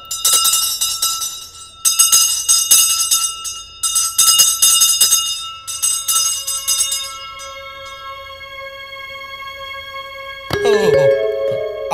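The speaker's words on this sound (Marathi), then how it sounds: "चल तिसरी बेल देऊया" A theatre's third bell before a Marathi stage play begins, rung in several loud bursts of bright, sustained metallic ringing, then a long fading tone and a final clang near the end.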